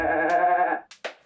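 Cartoon goat bleating in a children's drawing show, one long wavering harmonic bleat followed by two short clipped bleats, loud and alone with no talk.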